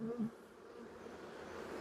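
Honey bees hum at an open hive, a soft, steady, close drone with a brief louder buzz near the start and no voices.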